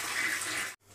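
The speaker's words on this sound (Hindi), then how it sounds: "इस तरह से फ्लश करो।" A toilet flushing in a small bathroom gives a short, loud rush of water that cuts off abruptly, followed by a faint continuing trickle.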